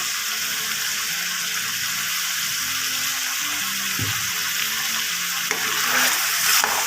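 A spoon stirs a mutton karahi mixture in a sizzling pan, a continuous hiss of frying under irregular scraping and knocking strokes, with a brief louder clatter midway.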